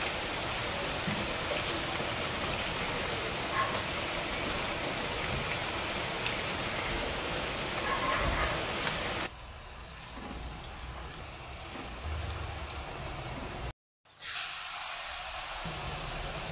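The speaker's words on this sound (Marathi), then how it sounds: "अचानक पाऊस." Dense, steady hiss of heavy rain pouring down, loud and unbroken, then easing to a softer patter before a brief silent gap and a return.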